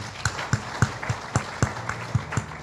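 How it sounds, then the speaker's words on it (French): An audience at the official launch ceremony of a Haitian police managers' association applauds a fanfare band with loud, rhythmic claps in an even beat. "Encore une fois, nous allons les applaudir chaudement."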